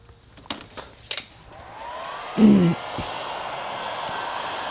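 A heat gun blows a steady airy hiss across a vinyl decal on a 2019-2025 Toyota RAV4, preceded by a few small knocks and a brief louder burst near the middle.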